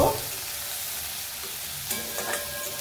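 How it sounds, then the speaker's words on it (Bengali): Chopped onions tipped into hot oil with nigella seeds sizzle loudly at first, then settle into a steady close frying hiss with a couple of brief stirring scrapes toward the end. "তেল গরম হয়ে গেছে, এবারে দিয়ে দিচ্ছি কেটে রাখা পেঁয়াজ, ভেজে নেব।"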